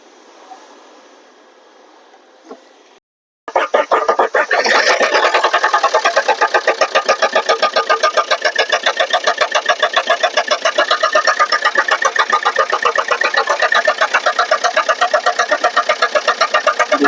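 A Swift Dzire car engine cranks over after a quiet pause and settles into a steady, loud, close idle with a rapid, even ticking pulse that runs unbroken to the end.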